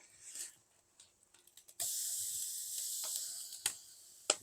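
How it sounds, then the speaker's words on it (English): A 4.2 lb skewered picanha beef roast, dry-brined with salt, sizzles over an open fire: a few quiet clicks and taps, then a sudden steady hiss that continues, with a couple of sharp pops near the end. "Sizzle, baby, sizzle."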